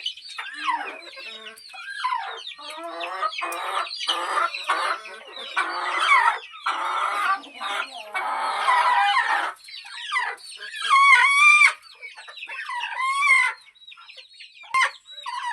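Free-range country hens on a farm cluck and squawk in busy, overlapping bursts, with a few sharper calls and a rooster-like cry, fairly close and with no talk over them.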